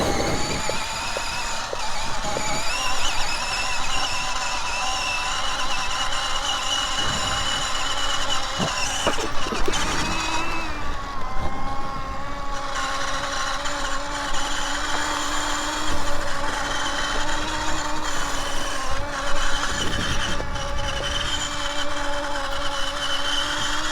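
A Stacyc 16 e-drive electric balance bike doing wheelies and donuts, with a steady whining electric motor hum that rises and falls in pitch, plus tire scuffs and scraping.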